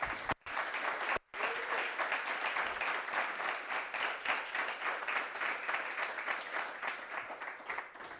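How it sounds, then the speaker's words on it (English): An audience applauds the speakers at the end of a tech panel discussion, with sustained, fairly even clapping from a modest crowd, heard at a distance after two brief cuts near the start. "please have a huge round of applause for our speakers"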